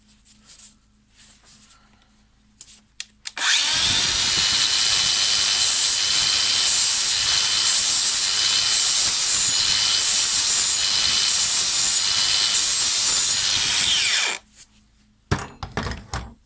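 An angle grinder grinds STIHL HS56 hedge trimmer blades in one continuous, loud, hissing whine lasting about ten seconds, with quieter handling clatter before and after.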